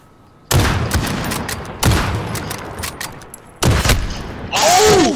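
Sniper rifle shots ring out in Call of Duty Modern Warfare, three loud sharp reports about a second and a half apart, each with a short echoing tail, and a final burst of action noise at the end.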